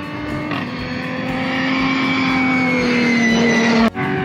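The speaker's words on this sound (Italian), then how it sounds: "andiamo a vedere passare qualche moto e macchina" A Dakar Rally vehicle passes on a road at an intersection in cold, very windy desert weather, its engine note droning loudly and rising as it nears, then cutting off abruptly near the end.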